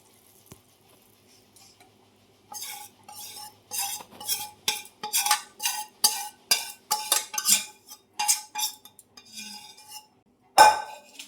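A utensil stirs a hot flaxseed and jaggery mixture in a pan, with repeated rhythmic scraping strokes close by and a final sharp clink, and no voices.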